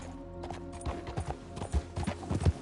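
Horse hooves clip-clop in the Red Dead Redemption II video game, an uneven series of close, distinct hoofbeats at a trotting pace.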